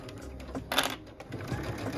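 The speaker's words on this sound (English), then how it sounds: "I'm going to stitch forward, pull my clip and stitch forward" Sewing machine stitching forward along a fabric seam of a quilted glasses case, a short rapid mechanical chatter that swells briefly mid-clip amid quiet handling noise.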